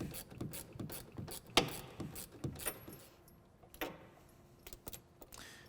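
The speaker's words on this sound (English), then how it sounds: "Ours are in the upper hole, so I'll go ahead and remove these 2 bolts." A hand ratchet backs out the bolts of a rear suspension limiter strap on a Polaris vehicle. It gives a quick run of faint, rhythmic clicks with small metallic jingles, then a few scattered clicks. No one speaks.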